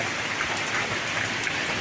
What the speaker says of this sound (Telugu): వాన వచ్చింది